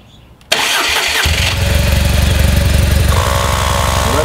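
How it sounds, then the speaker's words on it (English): A BMW R1200GS motorcycle engine cranks and fires after a quiet moment, then settles into a loud, steady rhythmic idle close to the microphone. "And we'll start the motor."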